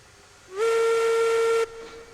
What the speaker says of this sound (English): Blow the whistle, because that always makes me happy.